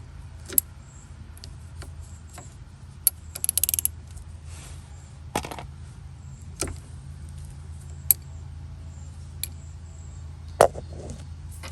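Hand tools working an 11mm brake line fitting on a third-generation Camaro: scattered metallic clicks, ratchet ticks and light clanks spaced out over a low steady hum, with a brief rattling burst partway through.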